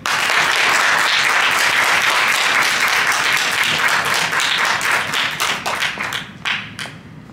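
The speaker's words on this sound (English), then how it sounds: "let's give a big round of applause again to LeboneM Malone" Audience applause for a performer at an evening show at San Antonio College, full crowd clapping that thins out in the last seconds into a few scattered claps.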